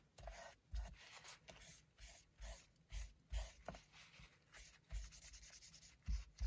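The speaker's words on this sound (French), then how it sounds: "je vais simplement enlever l'excès de colle" Soft, quick rubbing strokes as excess glue is wiped off a paper craft piece made from a recycled toilet paper roll, repeated in short irregular bursts, close and quiet with no talking.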